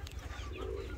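A pigeon gives a brief, faint low coo in a pigeon loft.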